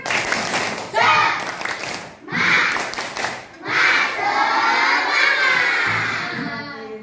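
A group of children chant and clap loudly together in a rhythmic burst, with an excited, crowd-like sound in the room.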